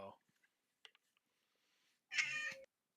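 A pet cat gives one short, clear meow near the microphone after brief speech and a few faint clicks in an otherwise quiet room.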